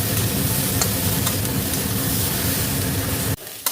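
Onion and soya chunks frying together in a pan over full heat, producing a loud dense sizzle with stirring scrapes that cuts off abruptly at the end, no voices.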